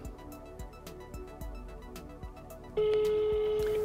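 A phone calls a Moto Finder GPS tracker for motorcycles, and a faint, quiet ringback pattern of short repeated pulses plays before a louder steady tone takes over near the end.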